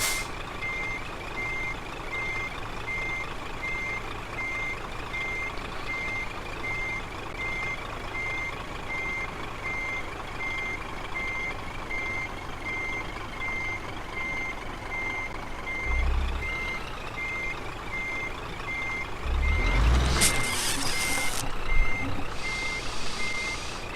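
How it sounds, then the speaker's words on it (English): A lorry reversing into a parking spot in Truck Sim 2, with a steady train of loud, evenly spaced reversing beeps over a low engine drone and a brief air brake hiss near the end. "Why is it so hard to park a lorry?"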